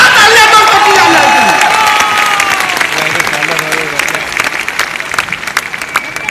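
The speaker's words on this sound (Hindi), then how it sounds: "एक जोरदार ताली दो" An indoor audience applauds and cheers loudly at a gathering. The clapping fills the whole span with a dense, close roar and slowly fades toward the end.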